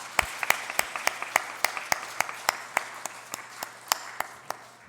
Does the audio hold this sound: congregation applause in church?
yes